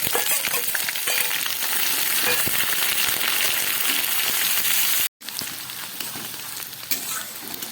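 Potatoes, onions and bay leaves frying in hot oil for a Bengali chicken curry, a loud continuous close sizzle with stirring scrapes, briefly cut off by a moment of silence before resuming.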